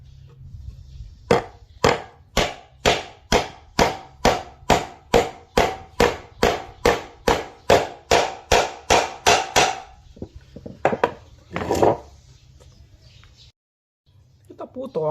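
Nails are hammered into wood to build a wooden stool: about seventeen sharp, evenly spaced blows ring out close and loud, followed by a few looser knocks and brief talk.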